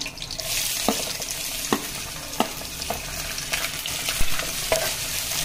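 Onion and whole spices fry in a pan for a chicken curry, giving a constant bright sizzle with regular clicks and scrapes from stirring, fairly loud and close with no voices.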